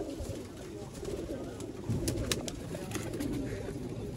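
Pigeons coo softly in the background amid rustling and a low murmur, with a few sharper taps and flutters.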